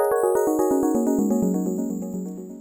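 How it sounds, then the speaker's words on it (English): A synth pluck run through Serum's bit crusher with downsampling, a quick series of about a dozen bright, gritty notes stepping downward in pitch, then a sustained buzzing tail that fades gently, with no voices. "Serum's got a great bit crusher."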